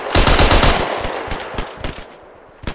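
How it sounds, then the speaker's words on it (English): Sustained machine-gun fire in the World War II shooter Hell Let Loose, giving suppressing fire along a hedgerow: a loud, dense burst of rapid shots for about a second, then scattered single gunshots and fading cracks, with no talking. "Alright, we're gonna give you suppressing fire."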